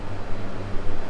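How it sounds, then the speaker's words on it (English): Steady broadband whirring hum of an electric fan running close by in a workshop, constant and unbroken with a low tonal drone underneath. "Excuse the noise of the fan"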